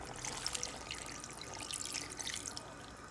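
Water poured from a measuring cup into a pot for easy chicken soup, a steady, fairly quiet trickle and splash with faint drips running throughout, no talking.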